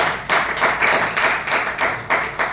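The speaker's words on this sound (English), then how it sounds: "Let us, with a big round of applause," A small Toastmasters meeting audience claps for the next speaker. The hand claps are close and distinct, coming in uneven rhythmic bursts across the whole stretch.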